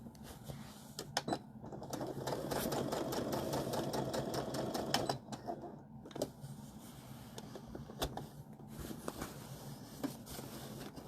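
A sewing machine stitches fabric for a casserole carrier in rapid, close chattering runs. A long steady stretch is followed by shorter stop-start bursts, with no voices.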